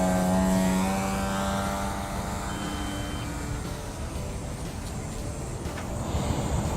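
A Precision Aerobatics AMR 60 radio-controlled plane flies in knife edge, its engine drone loud at first, then falling in pitch and easing into a steady, more distant buzz.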